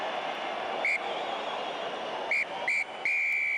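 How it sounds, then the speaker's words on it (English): A referee's whistle in a rugby test match between the Springboks and Italy, several shrill blasts, short ones followed by a longer final blow, heard over a distant stadium crowd roar. "The shot clock expires, the final whistle blows"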